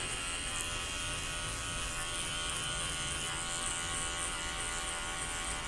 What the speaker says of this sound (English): Next, I'll be using my Magic Clip cordless clippers